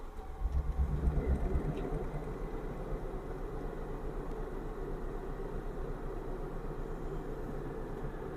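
A steady, even hum of the air conditioner running inside a Renault Kwid car cabin, a low constant whoosh that holds for the whole stretch with no speech.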